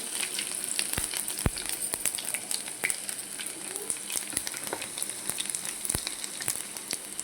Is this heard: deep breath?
no